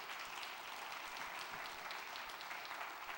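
A congregation applauds during a sermon, with a steady, soft wash of many hands clapping that continues evenly and sounds somewhat distant.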